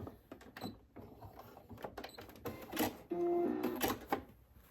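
Sewing machine fitted with a walking foot stitching through thick dish mats, heard as irregular mechanical clatter and brief bursts, with a steadier run of whirring stitching partway through, close and moderately loud.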